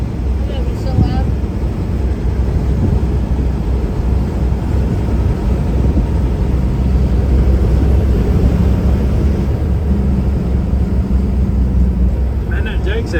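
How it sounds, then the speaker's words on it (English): An old Mack truck's engine brake, a steady loud rumbling drone from a diesel engine running at up to 40 pounds of boost, heard from inside the cab throughout with a constant low roar. "Man, that Jake sounds awesome."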